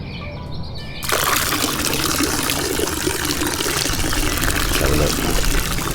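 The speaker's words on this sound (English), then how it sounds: "the sound of water gushing from a pipe shattered the peace" Water gushes hard from a cracked, rusted pipe at a villa under renovation in Zakynthos, bursting in suddenly after a second and then roaring as a loud, steady hiss nearby, with a short spoken remark at the start.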